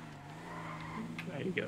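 A Bronco's engine revs in a roleplay video game, a steady droning motor with rising tonal whine and a few brief squeaks, heard close under game sounds.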